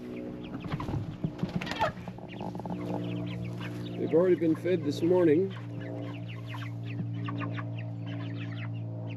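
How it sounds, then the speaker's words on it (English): A farm flock of meat chickens about six weeks old clucking and murmuring in a steady chorus, with a brief stretch of close human talk partway through. "This is our second chicken flock, the meat chickens."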